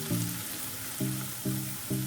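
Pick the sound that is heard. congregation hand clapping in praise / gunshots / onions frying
onions frying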